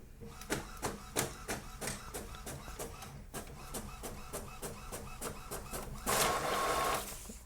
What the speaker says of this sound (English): when you're done, press the print button.